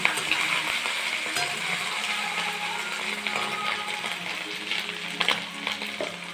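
Onions and chicken frying in a pan give a loud, continuous crackling sizzle, with occasional stirring scrapes and small clinks close by, and no voices.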